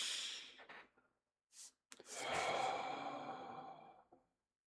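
A long, full exhale of breath, close and quiet, rising into a broad breathy rush that fades out over a couple of seconds after a few shorter breaths.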